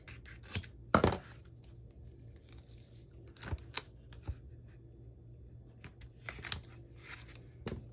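Adhesive tape pressed and smoothed onto a binder, heard as scattered crinkly rubs and short crackling bursts, with a stronger crunchy cluster early on, over a low steady hum and no talking.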